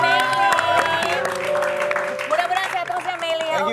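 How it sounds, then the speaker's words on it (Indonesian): A studio audience on a TV celebrity gossip show claps along while loud music plays and voices talk over it, the applause partly buried in the mix. "kita tepuk tangan dulu buat Oka dan Meli."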